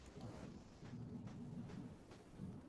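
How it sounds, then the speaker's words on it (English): Distant thunder during a monsoon storm, low rumbling rolling on and off with a faint rain-like hiss, soft and far away, no voices. "I don't know if you could hear that, but it was the thunder"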